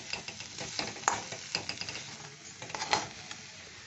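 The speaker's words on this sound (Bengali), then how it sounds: "এবার একটু মিশিয়ে দিই।" A spoon stirs shahi garam masala through hot oil in a cooking pan, giving a steady close sizzle broken by a string of light scraping clicks and taps over about four seconds.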